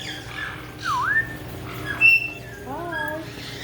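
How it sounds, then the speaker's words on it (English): Several pet parrots squawk close by in short, harsh bursts with whistled, wavering calls, loud and intermittent over a quiet room background with no talking. "I got 4 parrots on me now."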